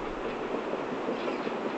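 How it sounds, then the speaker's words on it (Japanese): A JR West 113 series local electric train bound for Kyoto rumbles steadily nearby with a broad rolling noise, easing into platform 4 at Otsukyo station, with no voices heard. "4番乗り場に普通電車、京都行きが参ります。"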